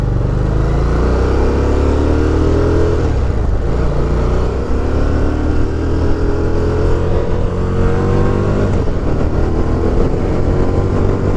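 A Harley-Davidson Street Rod motorcycle is ridden on the road, its engine droning loud and steady, with gentle swells as it is throttled, plus wind noise and no talk.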